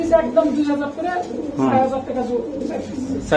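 Pakistani fancy pigeons coo in a steady run of soft, throaty calls, close by, while people talk over them throughout.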